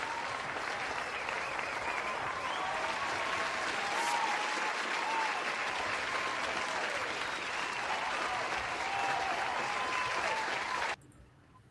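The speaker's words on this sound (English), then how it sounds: "Y'all give a round of applause for Miss Melissa." Sustained, loud applause welcoming a guest speaker at an online grief support event, a dense, even roar of many hands that cuts off abruptly near the end.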